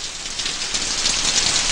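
Heavy rain pours steadily, a dense, loud and unbroken hiss of drops striking surfaces close by, with no voices over it.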